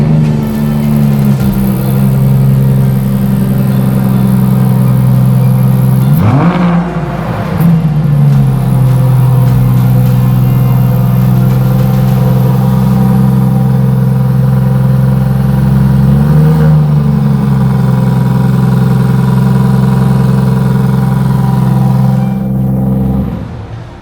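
An Aston Martin Vanquish's 5.2-litre twin-turbocharged V12 drones loudly and steadily, with two sharp revs that rise and fall about a third and two thirds of the way through.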